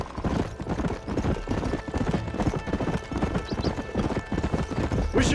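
Horse hooves gallop in quick, steady clip-clop rhythm in Red Dead Redemption, loud and close throughout with faint game sounds behind.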